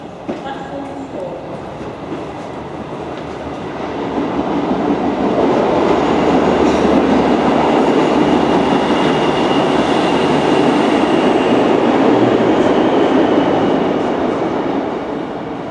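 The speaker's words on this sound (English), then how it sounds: "The train now approaching platform 4 does not stop here." A National Express East Anglia class 153 diesel unit, 153314, runs through Romford station without stopping, its broad rumble swelling after a few seconds and holding loud and steady to the end.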